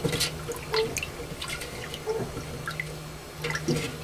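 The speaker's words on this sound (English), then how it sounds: "Gotta rinse out the bleach" Water sloshes and drips while a container is rinsed out to clear bleach, with irregular splashes and trickles up close; no talking.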